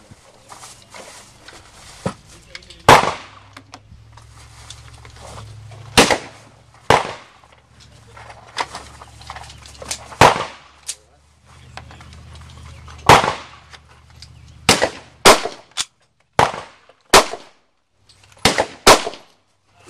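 Gunshots from a Draco firearm fire one at a time outdoors, about a dozen sharp, loud reports spaced irregularly over twenty seconds, with quiet handling and rustling between shots.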